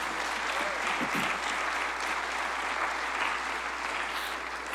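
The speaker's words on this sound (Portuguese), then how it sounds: "Você pode aplaudir a Jesus mais uma vez?" A church congregation applauds, a steady, even wash of many hands clapping that fills the room from start to finish, with a brief voice rising through it near the beginning.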